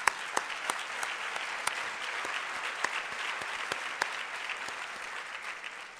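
Ballroom luncheon crowd at a YWCA event applauding, a dense, even patter of many hands clapping heard from a distance, sustained and fairly quiet throughout.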